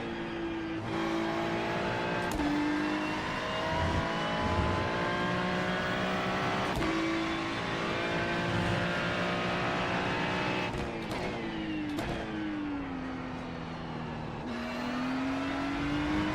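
GT3 race car engine screaming in the iRacing sim at Long Beach, loud and close, revving high through gear changes with sharp downshift blips and brief throttle lifts, rising again on corner exits.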